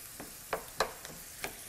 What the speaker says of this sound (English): we're going to go in with some ground beef